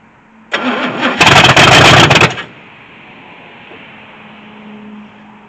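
An engine on a vehicle left sitting for more than ten years cranks hard for about two seconds, sputters into a loud catch, then falls back to a low rumbling idle.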